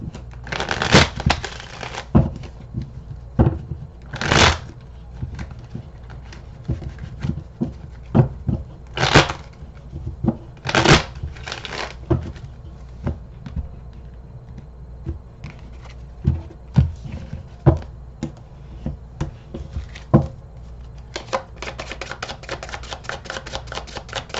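Tarot cards being shuffled by hand, crisp riffling bursts and soft slaps recurring irregularly, close and fairly loud, with a rapid flurry near the end and no talking.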